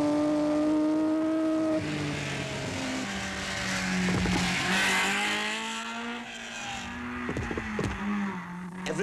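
Three white Alfa Romeo rally cars in close formation in the Coupe des Alpes rally, engines droning and shifting pitch as they pass, steady and fairly loud throughout.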